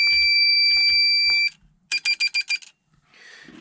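A detector alarm buzzer on a Dillon 650 reloading press: a steady, loud, high-pitched tone for about a second and a half, then a quick run of five sharp beeps, followed by quiet clicks.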